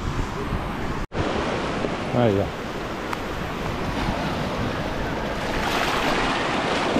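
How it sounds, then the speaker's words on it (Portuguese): Rough sea surf at Praia do Cachadaço beach in Trindade, Paraty, a loud, steady broadband roar of breaking waves with wind buffeting the microphone, while someone speaks briefly over it. "O mar tá brabo hoje."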